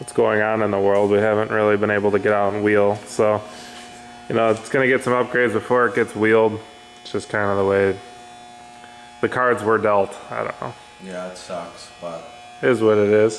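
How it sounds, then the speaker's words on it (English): Temporary lights in a garage give off a constant electrical hum, a low steady buzz that runs beneath a voice and continues through the pauses in his speech. "sorry about the humming noise in the background."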